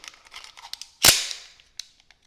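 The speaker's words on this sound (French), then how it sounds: "quand on insère le chargeur d'origine, vous voyez" A magazine is inserted into an HK P9S 9 mm pistol: one sharp, loud metallic click with a short ringing tail, followed by a few faint small handling clicks.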